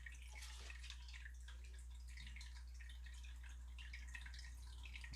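A faint, steady trickle of running water drips in a quiet room, soft scattered droplets over a low constant hum with no one speaking.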